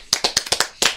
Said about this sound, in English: we at Drinkin and Thinkin applaud you